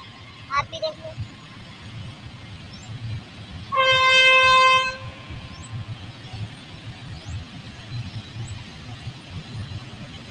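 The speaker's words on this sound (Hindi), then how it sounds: "एक और ट्रेन आ रही है यार" A train passes near a rural village amid steady outdoor rumble, with a loud, sustained horn blast of about a second partway through and a few faint higher chirps around it.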